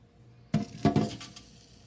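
Toasted edamame being tipped back into a bowl, giving a few close, sharp clinks and clatters of dish contact in quick succession, then quiet.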